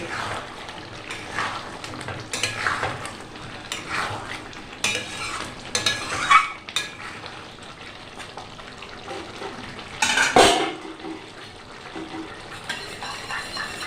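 Chicken pieces frying in a pan are stirred with a utensil, producing bursts of scraping and clattering against the pan over a low, steady sizzle, close up, with a louder clank of metal near the end; no talking.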